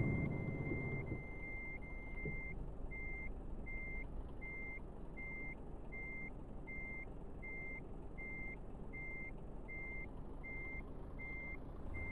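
A truck in Euro Truck Simulator 2 gives steady, evenly spaced reversing beeps over a constant low engine rumble. The beeps repeat for the whole stretch and nobody speaks.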